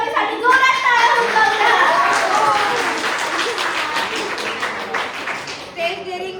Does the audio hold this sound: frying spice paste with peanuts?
no